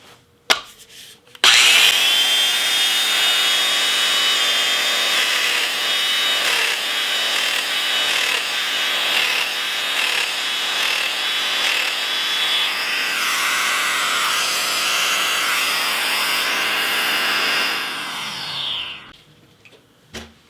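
Fein Turbo I wet/dry dust extractor switching on with a power tool, a loud sustained high-pitched whine and rushing airflow running about sixteen seconds after a short start click, then winding down and stopping.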